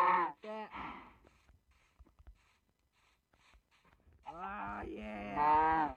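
Cow moos from the Minecraft Pocket Edition game, two short bellowing calls at the start and a longer, louder drawn-out moo near the end, separated by a quiet stretch.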